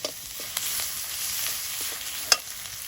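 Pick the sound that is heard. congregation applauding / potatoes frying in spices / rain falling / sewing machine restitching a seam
potatoes frying in spices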